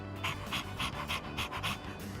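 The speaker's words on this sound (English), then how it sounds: "It doesn't look like Koromaru-kun is the type that would bite people" A dog in a video game pants in quick, even bursts, about eight breaths in steady rhythm, soft and close with no talking.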